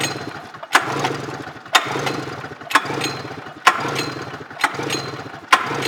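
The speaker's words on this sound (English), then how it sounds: "1999 Polaris INDY 500. Evolved chassis, engine compression test." The engine of a 1999 Polaris INDY 500 Evolved-chassis snowmobile cranks over on the magneto side during a compression test, giving a loud, steady rhythm of about six sharp compression pulses roughly one second apart.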